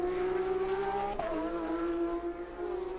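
A Porsche Supercup race car at full power in qualifying at the Dutch Grand Prix, its engine a steady high-pitched drone that briefly dips in pitch, as if shifting gear, before holding a strong, even tone.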